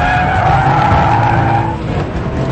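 A Nissan Skyline GT-R R34 skids through a corner, with tires squealing in a sustained, loud, close hiss over a steady engine rumble, lasting a couple of seconds.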